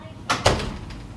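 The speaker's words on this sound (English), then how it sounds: "Can you close the door?" A door is shut indoors at home, two quick knocks of contact and a soft closing thud, fairly close, with a faint bird chirp in the background.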